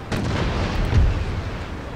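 Ship cannons fire in the Empire Total War naval battle, a couple of muffled booms with a deep rumbling tail, heard alone without talk.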